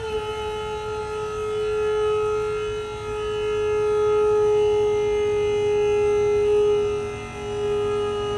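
A Flying Carpet lift motor raises the platform with a steady mechanical whine holding an even pitch, over continuous background hum, swelling slightly and easing off near the end.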